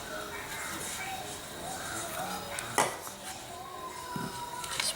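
A spoon scrapes the soft flesh out of a halved eggplant, leaving a thin shell, with close scraping and clinks of metal against a dish. A sharper knock sounds midway, and quiet room noise sits underneath.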